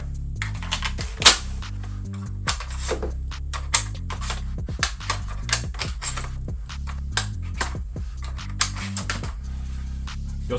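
Shells being loaded one by one into a Beretta 1301 Tactical gel blaster toy shotgun: a long run of close plastic clicks, snaps and rattles at an uneven pace, with a louder clack now and then over a steady low hum.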